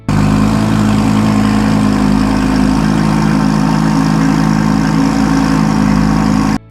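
An Audi R8 with a 5.2-liter naturally aspirated V10 engine runs steadily at a close, loud idle, giving a rich, constant drone with a strong low-end hum and no revving.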